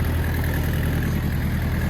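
A Mitsubishi MT 2501 Japanese compact tractor runs steadily with an even, low engine drone, close and constant, with no speech over it.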